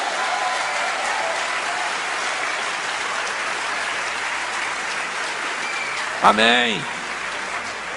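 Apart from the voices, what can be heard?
congregation applauding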